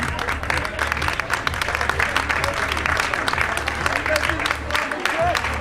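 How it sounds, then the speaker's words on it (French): Stadium crowd at an athletics meeting applauds the winner of a 1:47 Ethiopian race victory, a sustained roar of clapping and cheering that stays loud throughout, with commentary talk over it. "Oui, ça s'applaudit."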